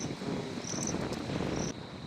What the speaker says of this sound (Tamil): நல்லா காற்று அடிக்குது இந்த இடத்துல.